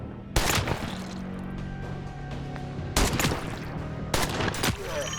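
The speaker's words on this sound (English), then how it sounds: "I got a couple shots on that one, so that one's dead" Rapid bursts of gunfire from the shooter game Every Day We Fight, loud clusters of shots cracking out at roughly half-second, three-second and four-second marks over a steady background drone.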